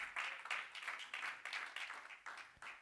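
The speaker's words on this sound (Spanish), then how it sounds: "¿Cuántos le dan palmas al Señor?" A church congregation claps hands in a steady rhythm of repeated, evenly spaced claps, fairly quiet and a little distant, with no speech over them.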